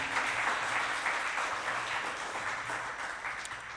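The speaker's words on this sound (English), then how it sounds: "Another round of applause, please" An audience at an awards ceremony applauds with sustained, fairly close clapping that stays even for several seconds and then tapers slightly.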